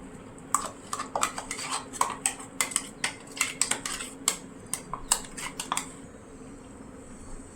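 Ground masala paste being stirred into kadachakka (breadfruit) curry in a pan, giving irregular metallic scrapes and clinks of a spoon against the pan, fairly close, with no talk.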